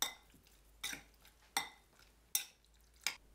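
Utensil stirring a marinade of egg white, salt, Shaoxing wine and soy sauce in a bowl, five sharp scraping clinks at a steady rhythm, close and fairly quiet.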